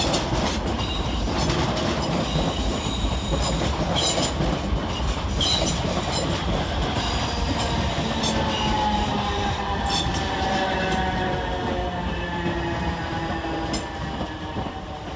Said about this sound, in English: Next in work in the 1908 South Western Railway service from London Waterloo to Windsor and Eton Riverside is 455734 and 455861